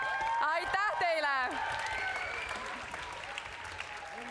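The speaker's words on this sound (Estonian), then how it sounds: "Nii, veel kord suur aplaus Veenusele!" Applause and cheering from an audience for a performer named Veenus at a student playback show, a broad wash of clapping under loud sung or voiced tones and music at the start that fade, leaving the crowd clapping.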